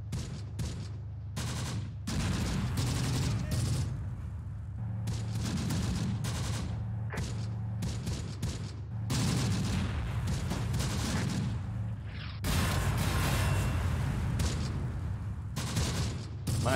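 Sustained gunfire and explosions from a WWII-era tactical combat video game, with dense overlapping rifle and machine-gun bursts and heavy booms rolling continuously and loudly, no voices.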